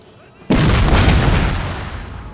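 Cannons fire in Total War: Shogun 2, heard as a sudden loud boom that swells into a sustained rumbling roar of artillery and slowly fades over two seconds.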